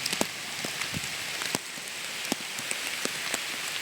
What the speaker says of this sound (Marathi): एकदम बेफाट पाऊस पडला.